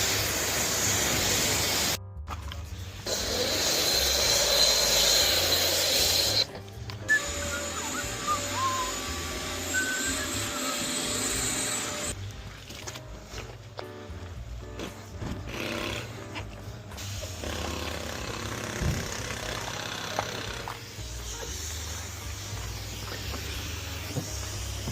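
Water hose spraying the wheels of an Audi RS3 Vorsprung Edition during an exterior wash, a loud, steady broadband hiss that starts and stops in bursts, broken by short pauses and handling noises.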